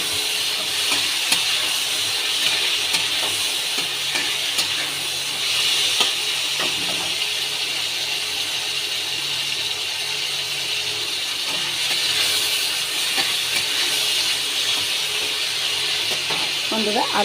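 Vegetable stems frying in a pan with a little salt give a steady, close hiss and sizzle that runs throughout, with faint scraping and clatter on top.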